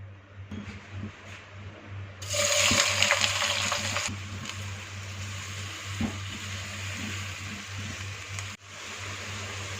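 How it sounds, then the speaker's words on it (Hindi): Onions sizzle in hot oil, a bright hiss that surges loudly for a couple of seconds, then settles into a steady frying crackle over a low hum. "इसी ऑयल में अब प्याज फ्राई कर लेंगे"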